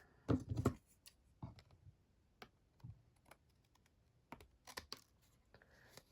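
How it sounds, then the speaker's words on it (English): Scissors snip the edge off a handmade card with bow pieces, giving a few quiet, close crisp cuts followed by scattered light taps and paper handling. "I'm just going to snip off the edge."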